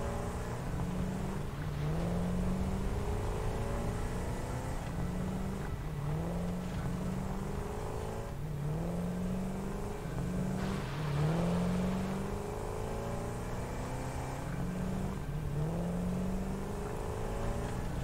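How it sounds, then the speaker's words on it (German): Car engine in the video game Satisfactory, a continuous close hum that revs up and down in repeating waves as the vehicle drives under a base, steady and alone without talk. "Wir hüpfen in das Auto. Und fahren unter die Basis"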